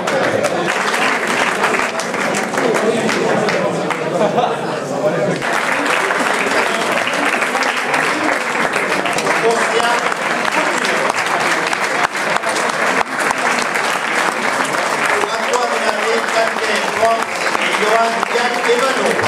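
A crowd claps steadily and loudly for junior cyclists at the podium of the Challenge de la Lomagne road race in Mauvezin, with a dense, continuous patter of many hands and occasional voices mixed in.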